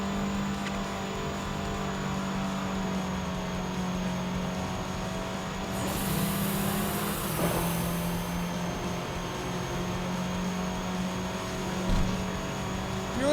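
A car engine in a racing video game drones steadily throughout, revving and shifting pitch slightly at mid-level volume, with a brief brighter surge partway through and no speech.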